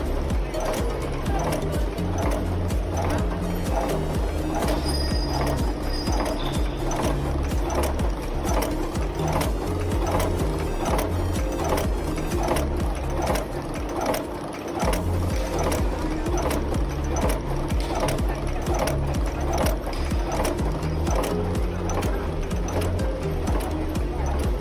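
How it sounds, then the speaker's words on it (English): An open-closed mold heading machine forming furniture screw heads pounds with steady, rapid, loud mechanical strikes and a continuous clattering rhythm, with industrial hum beneath. "Second, through open-closed mold heading machine."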